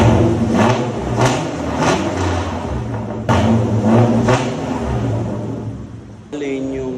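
A Mitsubishi Montero Sport with its Valvetronic exhaust switched on revs loudly and close up, its engine rising in repeated surges over several seconds.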